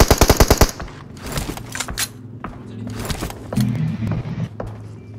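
Gunfire in a mobile battle royale game during a competitive scrim: an opening burst of rapid automatic shots followed by scattered single and short bursts of fire over quieter game ambience.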